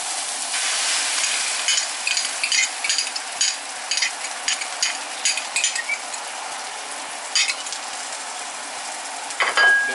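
Eggs frying for a breakfast burrito, stirred in a pan: a steady, fairly loud sizzle with repeated clicks and scrapes of a utensil against the pan throughout, and no voices.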